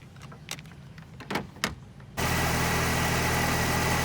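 A car engine cranks and catches, then settles into a loud, steady idle with the alternator charging. A few soft clicks and handling knocks come first.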